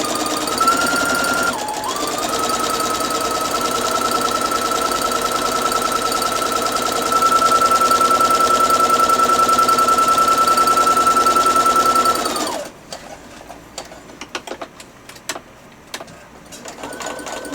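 A sewing machine fitted with a guide foot stitches a straight seam along a fabric edge, a loud continuous motor hum holding steady for about twelve seconds before stopping, leaving faint clicks and handling noises.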